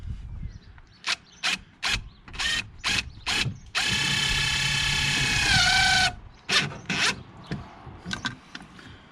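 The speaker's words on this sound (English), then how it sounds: "So get this third and final screw in." Tightening the screw on a window regulator motor inside a 2007 VW Beetle front passenger door: a run of short, rapid ratcheting bursts, then a longer continuous whirring zip of the driver, followed by a few more clicks, close and crisp.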